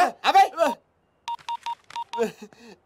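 A telephone being dialed, heard as a run of short, evenly spaced keypad tones between snatches of close male speech in a comic film scene.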